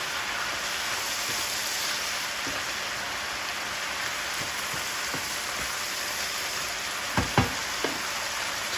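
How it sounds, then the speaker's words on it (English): Ground beef with mushrooms and onions, fat drained, sizzles steadily in a pan, with a few soft stirring scrapes and a short cluster of louder utensil knocks near the end. "Throw your mushrooms and onions back inside. Stir that together."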